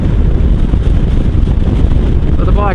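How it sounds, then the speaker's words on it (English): Strong gale-force wind buffeting a microphone during a Royal Enfield Himalayan motorcycle ride, a loud, constant roaring rumble that dominates throughout. "You can see it's really windy, the screen's shaking, it's absolutely blowing a gale"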